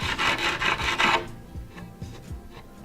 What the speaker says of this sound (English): So this is your burr stone, and it's designed to get rid of burrs.